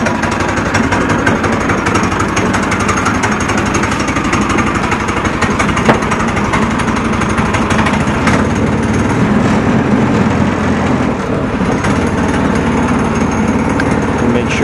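A Predator 6.5 hp small gas engine fitted to a Kawasaki KAF450 Mule utility vehicle runs at a steady, loud, buzzing chug throughout, with no talking.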